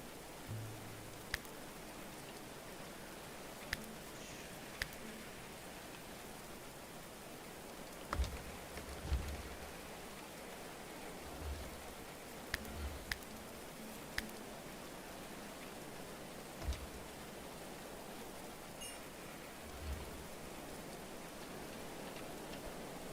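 Steady soft rain patters on surfaces in the medieval colony game Going Medieval, a continuous hiss broken by occasional quiet low thuds and faint clicks, with no voices.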